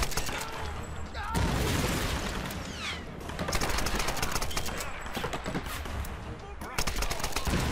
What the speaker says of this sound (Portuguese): O cara não para de atirar, muito chato,